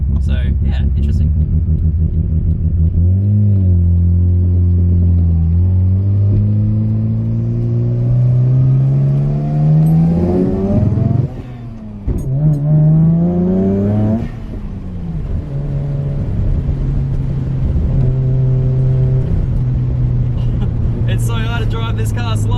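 A Mazda FD RX7 RS rotary engine revs while driving, climbing steadily through repeated rising pulls with a brief lift-off between, loud and close from inside the car.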